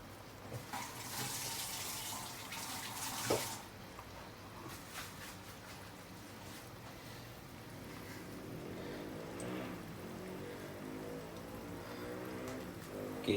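Vegetarian fish fries in a pan with a constant, dense sizzle and crackle, heard close and alone without speech. The hiss swells and eases slightly throughout.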